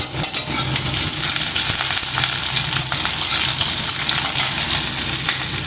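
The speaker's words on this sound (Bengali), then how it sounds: "এর মধ্যে একটু পেঁয়াজ কুচি দিয়ে দিচ্ছি" Chopped onion sizzles loudly in hot oil, a steady, crackling fry that runs unbroken throughout with no talking.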